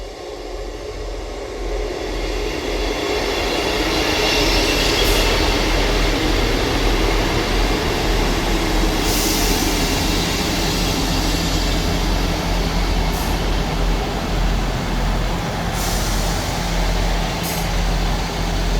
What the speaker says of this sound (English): Arriving in now is the 12:29 Scotrail service from Perth to Edinburgh Waverley.